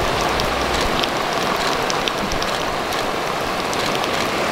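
Heavy rain falling during an outdoor photoshoot, a steady, close, dense hiss of drops hitting surfaces throughout, with no talking.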